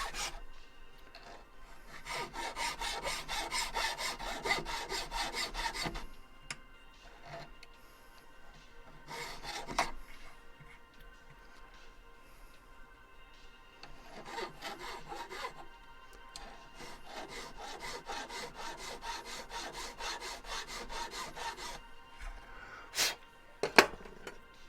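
Bursts of hand filing on a silver pendant, close up: rhythmic rasping strokes in several runs separated by quieter pauses, with a couple of small clicks near the end.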